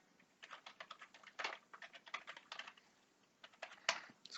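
Quick, uneven bursts of key clicks on a computer keyboard as login credentials are typed, faint and close with short pauses between runs.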